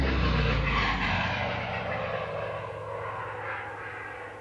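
The retractable rear landing gear on the tail of an R/C P-51 Mustang warbird model moves with a close mechanical whir that starts strongest and slowly fades over a few seconds.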